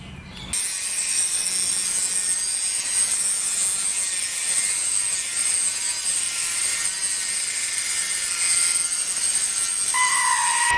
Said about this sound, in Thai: ดัดเข้าไปตัดข้างล่างด้วยนะ ตัดเข้าไปแล้วก็ทำการเชื่อมครับ